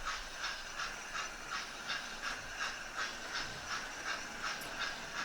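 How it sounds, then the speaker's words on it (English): A model steam locomotive's sound unit chuffs in a steady, regular rhythm with a hissy edge as it struggles uphill, slowed down while pulling a load; moderately quiet and continuous, with no talking. "you can hear the locomotive doing its thing, and as it struggles up there it's slowed down"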